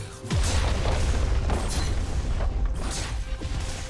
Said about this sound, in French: Votre équipe a détruit une tourelle.